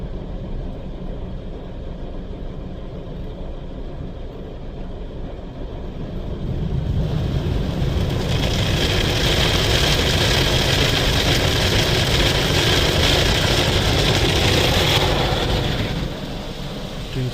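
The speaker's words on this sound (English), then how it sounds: "Doing tyre scrubbers." Tyre scrubbers on an Istobal M'Wash 3 car wash run with a steady mechanical rumble and hiss that swells louder partway through and then eases, with an engine idling underneath.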